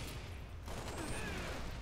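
Gunfire and grenade blasts from the video game Halo Reach form a dense, continuous broadband roar, with a louder burst about two-thirds of a second in and faint whooshing sweeps after it.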